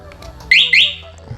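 Two short, loud electronic chirps from a motorcycle anti-theft alarm, a lock chirp and then an unlock chirp about a quarter second apart, over a quiet background.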